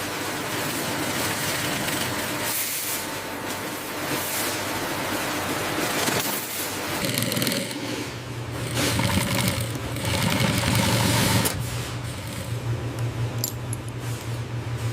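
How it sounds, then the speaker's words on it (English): A leather skiving machine thins the edges of luxury leather in a production workshop, running as a continuous loud mechanical whir and rattle with shifting tones and occasional knocks, heard without talking. "This specialized machinery thins the edges, ensuring a flawless seam on luxury leather products."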